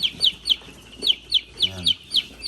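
One-week-old chicks being vaccinated with eye and nose drops peep in steady high chirps, about three per second, with a faint low voice murmuring underneath.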